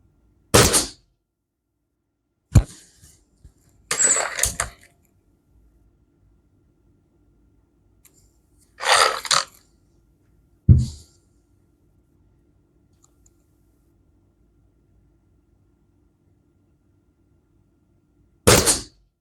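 A budget spring-powered air rifle with a wooden stock fires several sharp, separate shots, each a brief loud crack with a slight metallic ping, spaced by silence.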